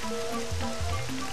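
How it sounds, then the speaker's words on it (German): Rain falls in the video game Super Mario Galaxy, a steady hiss of rainfall heard beneath tonal game music in the background. "Da kommt der Regen."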